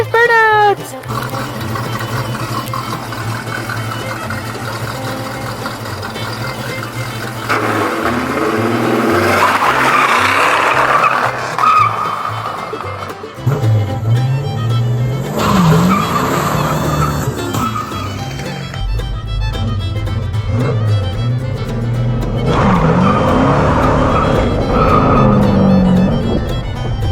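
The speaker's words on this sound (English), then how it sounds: "are you ready for your very first burnout?" A 1965 Pontiac GTO does a burnout, its engine roaring loud and close as the tires squeal and skid in long, surging waves, with excited voices talking over the noise.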